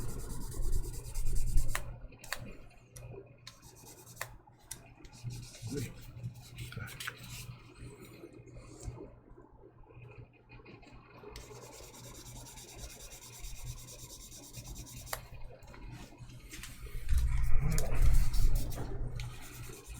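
Hand sanding with 1200 grit sandpaper gives soft, continuous rubbing and rasping strokes, quiet and close, swelling in brief louder bursts near the end, with no voices.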